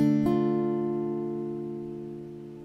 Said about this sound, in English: Minor sounds like this.